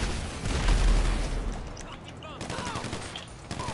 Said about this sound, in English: Why are they always shooting at me?